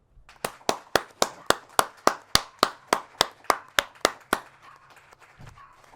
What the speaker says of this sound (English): And a great big applause